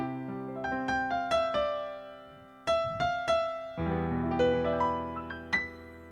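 Piano-like notes from a Yamaha PSR-E473 electronic keyboard's grand piano voice are struck in short phrases, each decaying after the attack, then a fuller chord passage; moderately quiet and without any talking.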